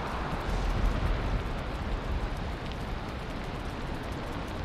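Steady rain pours through a nighttime video game scene, a dense, even hiss that holds for the whole stretch with no voices over it.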